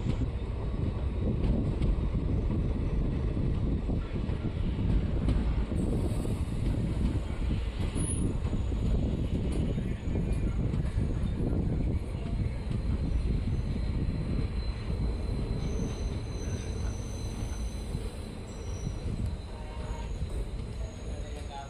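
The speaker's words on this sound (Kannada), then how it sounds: "ನಮ್ಮ ಟ್ರೈನ್ ಈಗ ಹರಪನಹಳ್ಳಿ ರೈಲ್ವೆ ಸ್ಟೇಷನ್ಗೆ ಎಂಟ್ರಿ ಆಗ್ತಿದೆ" A passenger train runs into Harapanahalli railway station, heard from on board as a loud, continuous rumble and rattle of wheels on track with faint high squeals, steady throughout.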